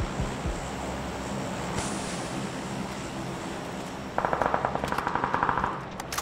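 Video game gunfire in a firefight over a compound: a steady rushing ambience, then a rapid automatic burst of evenly spaced shots near the end.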